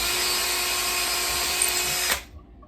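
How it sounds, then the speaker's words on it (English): A power drill runs steadily at full speed boring screw holes into a wooden guitar mould, loud and close, then winds down abruptly near the end. "So find a drill that's the right size"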